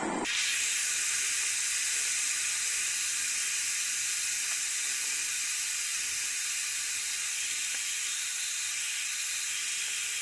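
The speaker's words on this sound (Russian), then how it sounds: "Возьмем газовую горелку и направим открытый огонь на фламу" A gas torch directs its open flame at a fireproofing board, producing a steady, loud, continuous hiss that starts abruptly and runs unbroken throughout, with no talking.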